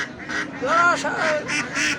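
Ducks quacking close by at a livestock market, a rapid series of loud, nasal calls, several overlapping in quick succession.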